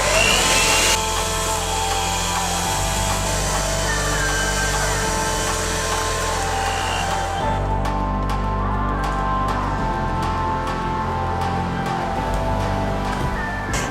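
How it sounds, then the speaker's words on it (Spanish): An electric hand mixer at top speed whisks Swiss meringue in a bowl, a loud steady motor whine that holds throughout and changes pitch partway as the beaters shift, with faint tapping. "Y ahora con la batidora eléctrica, con las aspas ya bien limpias"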